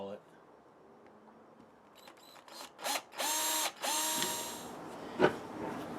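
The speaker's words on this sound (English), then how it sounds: "I think I'm just going to use a hand drill to get my registration hole on the scale." Hand drill boring a registration hole into a wooden gun scale, heard as a few short whirring bursts of rising pitch, fairly close and moderately loud, separated by brief pauses, with a sharp click near the end.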